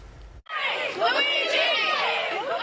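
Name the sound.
crowd of supporters shouting outside Manhattan courthouse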